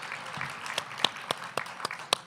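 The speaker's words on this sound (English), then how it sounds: "we want to give him a round of applause" Gala audience applauding with a thin, scattered patter and several distinct sharp claps standing out, fairly close and without talk.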